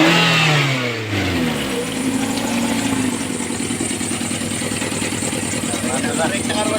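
A Mazda hatchback engine is revved up after a starting problem, a close, loud rising roar that settles into a rough, pulsing idle, with people talking around it.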